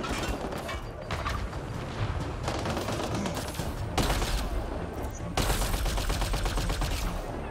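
Sustained gunfire in Mass Effect Andromeda, with dense rapid shots and mechanical clatter running throughout, loud and continuous, getting heavier in the later bursts.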